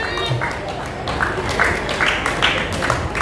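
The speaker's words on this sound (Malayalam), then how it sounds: "ഇവിടെ കൈയടിച്ച് പ്രോത്സാഹിപ്പിക്കേണ്ടതാണ്" Audience clapping at a Sunday school anniversary as children's names are read out for perfect attendance; a steady, dense patter of many hands that holds evenly throughout.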